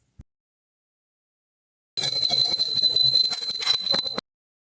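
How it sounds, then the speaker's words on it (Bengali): A small ceramic bell is rung over and over: a tiny tap, then about two seconds of steady, bright jingling, close and fairly loud, with no one talking. "ঘন্টাটা খুব সুন্দর, আর ওটাই ননস্টপ বাজিয়েই চলেছে।"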